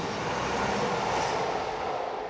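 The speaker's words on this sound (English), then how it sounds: "train going past." A train passes nearby with a steady, broad rushing roar that holds evenly throughout, heard outdoors near a Land Rover under repair.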